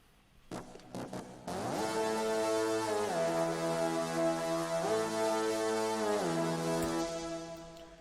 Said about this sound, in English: Layered with a lower octave made in OBXD.